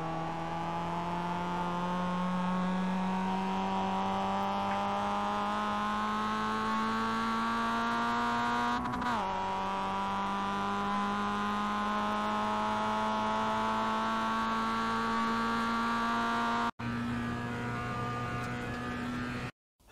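A Mazda MX-5 race car engine in the iRacing sim drones steadily on the Okayama full course, pitch climbing gradually under throttle, with a brief gear-shift dip midway and a sharp cut near the end.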